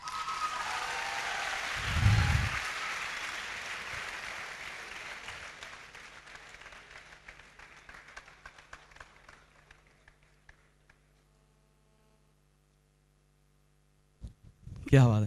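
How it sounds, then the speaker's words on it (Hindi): An audience at a seminar bursts into loud applause that peaks early, then thins into scattered claps and fades to near silence before a brief sound at the end. "इनके लिए जोरदार क्लैपिंग कर लें"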